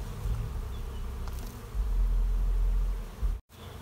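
Honey bees crowding into a trap-out box with frames, a dense continuous buzz that swells louder midway and briefly cuts out near the end.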